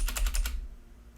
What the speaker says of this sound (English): You hear the keyboard, yeah,